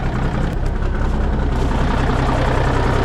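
A Peterbilt truck diesel engine idles steadily and loudly up close, a continuous low rumble with exhaust leaks, unbroken for the whole stretch.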